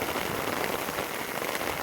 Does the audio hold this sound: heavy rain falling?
yes